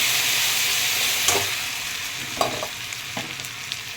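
Spices, salt and turmeric sautéing in a pan: a steady, fairly loud sizzle runs throughout, with a few soft stirring scrapes.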